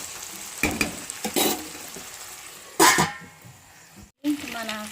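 Gongura curry with tomatoes and chilli powder frying in a pan under a lid, giving a steady soft sizzle with a few louder bursts and some clatter.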